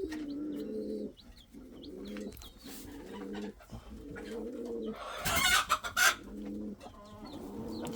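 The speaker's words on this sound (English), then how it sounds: "Very beautiful color bird." Indian fantail pigeons in a loft coo in repeated low rounded phrases, close and fairly loud, with a brief burst of fluttering or scuffling partway through and other fowl faintly in the background.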